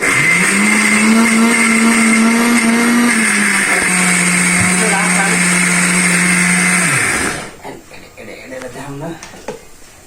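An electric blender grinds onion into paste with a loud, close, sustained whine that dips slightly in pitch partway through, cuts off after about seven seconds, and gives way to voices talking.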